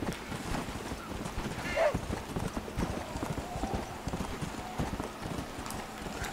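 Horse hooves clip-clopping at a steady trot in Red Dead Redemption, a continuous rhythmic clatter of moderate loudness under game ambience, with a brief whinny-like sound.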